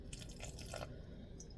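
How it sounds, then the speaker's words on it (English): Water trickles and drips into bread dough in a bowl, a soft, close pouring sound that fades out, ending with a brief sharp knock. "I'm going to add some more water."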